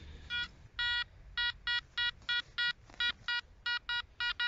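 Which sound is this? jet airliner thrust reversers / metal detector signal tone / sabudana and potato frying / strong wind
metal detector signal tone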